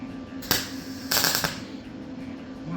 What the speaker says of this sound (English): Welder doesn't sound very happy, does it?